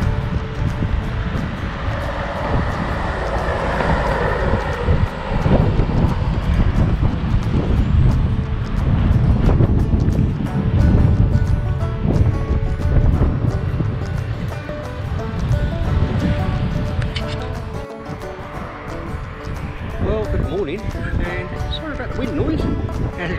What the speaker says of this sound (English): bit windy this morning.